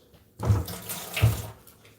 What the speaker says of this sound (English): I'm gonna rinse my knife off